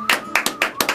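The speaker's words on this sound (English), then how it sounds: "can we give her a round of applause for that?" An audience at a show about empowered women in wheelchairs breaks into applause, heard as a short burst of sharp, close claps in an irregular rhythm.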